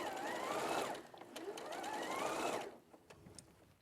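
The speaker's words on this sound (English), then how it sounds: "Now I'm stitching around so that I get that nice top stitch detail" A sewing machine runs top stitching around fabric with slightly darker thread, whirring in two fast continuous runs with rising and falling pitch, followed by a pause and a few faint clicks.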